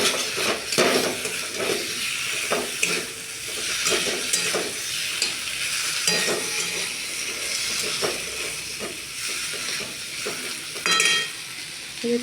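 Ginger paste frying in a pan for a vegetarian potato curry, with steady loud sizzling and hissing throughout and occasional scraping clicks of stirring, close up with no talk.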